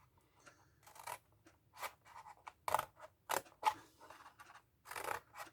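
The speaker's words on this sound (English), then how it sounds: "all I did was just cut it with a pair of scissors" Scissors snip through paper for a scrapbook album in a series of short, crisp cuts, some spaced apart and some quick in succession, close and fairly quiet with no talking.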